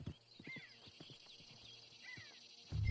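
Horse hooves clip-clop in a console video game, a steady string of light hoof strikes with a brief whinny mixed in, moderately close over a soft ambient bed.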